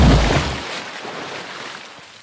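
Animated dive underwater into the sea, heard as a loud rushing splash of water that opens strongly and then fades into a softer, sustained bubbling wash.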